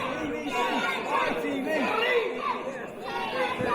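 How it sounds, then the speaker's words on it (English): A wrestling crowd at a tag team title match keeps up a steady roar of chatter and shouting, with overlapping voices rising and falling at a fairly constant level. "You hear the crowd firmly behind D&D in this contest."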